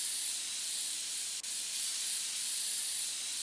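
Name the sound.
compressed air spraying dust in PC Building Simulator video game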